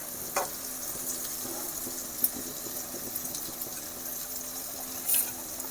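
Spice masala sizzling steadily in hot oil for a spicy pond-fish curry, a soft continuous hiss at low volume with a few light stirring clicks and no talk.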